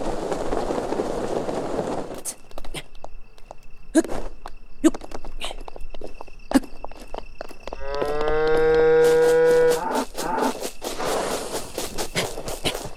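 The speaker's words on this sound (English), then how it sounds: "It's a very loud mooing cow." Cow in a video game letting out a long, loud, drawn-out moo midway through, amid scattered footsteps and clatter, close and prominent.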